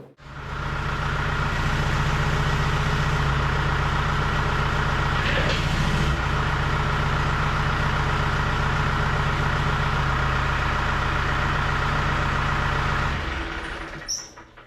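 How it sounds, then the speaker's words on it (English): A tractor's diesel engine idles with a steady low rumble and drone for most of the stretch, close by, then cuts off near the end. "let's go get the tractor, hook it up"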